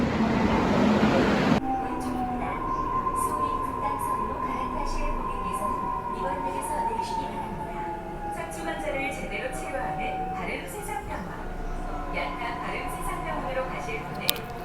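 A Seoul Metropolitan Subway train runs along the track with a sustained rumble and a long, gliding tonal whine, after a brief loud burst at the start, with some talk mixed in.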